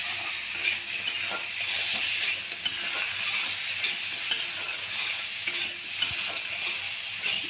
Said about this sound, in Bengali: এখন একটু কষিয়ে নেব, একটু তেল ছাড়া পর্যন্ত।